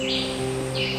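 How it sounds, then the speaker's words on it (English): Birds singing in a Dominican forest, two bright chirping phrases heard close together over a steady background hum, with no one talking. "The birds are singing away."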